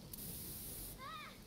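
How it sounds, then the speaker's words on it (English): A sustained hiss of pepper spray sounds in the video game Ai: The Somnium Files, a bright spraying burst lasting under a second, followed by a short vocal cry. "She got sprayed with pepper spray again?"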